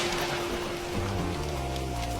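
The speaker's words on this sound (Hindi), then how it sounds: "घनघोर बारिश होती है।" Heavy rain pours down in a cartoon scene as a steady, dense wash of hiss, with low sustained musical tones running beneath it.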